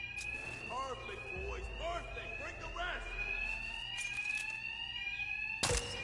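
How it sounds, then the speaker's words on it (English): Alarms blaring in the Batman: Arkham Knight video game, a steady high electronic tone running throughout with warbling, rising and falling sweeps layered over it and a low rumble beneath. "Thugs can't hear a thing over the alarms."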